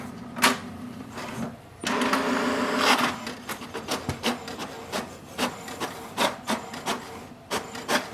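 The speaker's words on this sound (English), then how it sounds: "It will print the printer information page." An HP DeskJet 4222e inkjet printer prints its information page with a steady mechanical rubbing whir, broken by a run of quick rhythmic clicks and pulses, fairly quiet and close.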